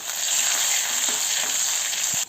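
Mustard seeds, urad dal, dried red chili and curry leaves fry in hot oil for a pumpkin and bean erissery, giving a steady bright sizzle with faint soft scrapes of stirring, close and alone, cutting off just before the end.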